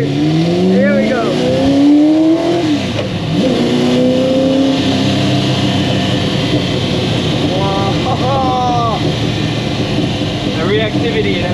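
A 1968 Ford GT40 MK1 race car accelerates hard through its gears, the engine's rising pitch sweeping up and dropping at each shift, loud and close from inside the cabin, with voices briefly under the engine roar.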